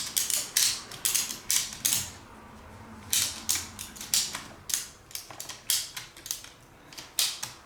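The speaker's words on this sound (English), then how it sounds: "undoing a ratchet strap" Repeated clicking and ratcheting of a ratchet strap being released from cargo in a junkyard big-block engine build, a steady series of sharp close metallic clacks in quick bursts with no talk.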